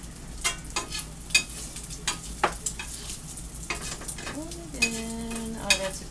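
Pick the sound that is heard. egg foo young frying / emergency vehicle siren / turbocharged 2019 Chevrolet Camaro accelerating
egg foo young frying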